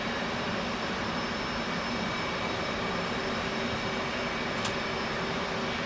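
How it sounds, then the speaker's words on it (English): An F/A-18 jet engine runs during a cold start in the DCS flight simulator game, a steady, unbroken roaring whine that fills the whole stretch evenly, with no speech. "With the right engine running and generator power on"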